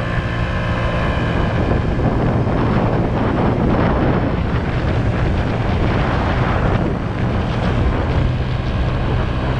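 Small slow scooter accelerating from a start, its motor note rising as it revs higher, loud and close over steady wind-like rumble, with no talking.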